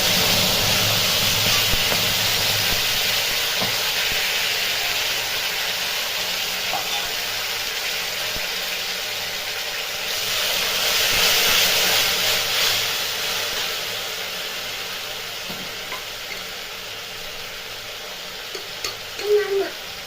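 Ground Bengali spice paste frying in hot oil for raw banana kofta curry, giving a steady close sizzle and hiss throughout, swelling louder midway with faint stirring clinks toward the end.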